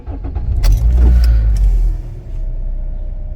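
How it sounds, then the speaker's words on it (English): A 2017 Toyota Corolla with a traction control fault starts up: a close, loud crank and catch with a deep rumbling burst and a few clicks or key jingles, then a steady lower idle. "You can see they start the engine."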